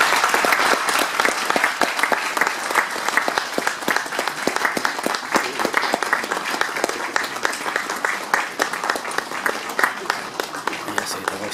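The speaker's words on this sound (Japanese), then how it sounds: "皆様拍手でお迎えください。" Sustained audience applause welcoming a lecturer into a hall, many hands clapping in a dense, steady patter that holds at an even level throughout, with faint voices underneath.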